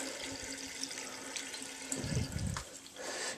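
Water splashes onto Under Armour Coldgear Storm football gloves from a running tap, a steady close rush with a brief heavier splatter in the middle.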